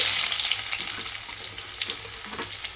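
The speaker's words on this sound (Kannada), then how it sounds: "ಈ ಥರ ಸ್ವಲ್ಪ ಉಳ್ಳಾಗಡ್ಡಿನ ಫ್ರೈ ಮಾಡ್ಕೊಂಡ್ರಿ." Chopped onions sizzle steadily in hot oil in a pan for a tempering, a continuous close crackling hiss with faint stirring and no voices.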